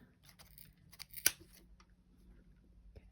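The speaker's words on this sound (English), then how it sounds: "Cut through all those loops." Scissors snip through the looped crochet yarn of a small pom-pom, giving one sharp, close cut in the middle and a fainter one near the end, with quiet rustling in between.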